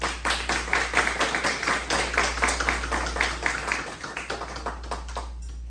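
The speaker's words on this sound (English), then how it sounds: "Please give them a round of applause." An audience at a graduation ceremony claps for several seconds, the sharp hand claps loud and fairly close over a low steady hum, tapering off at the end.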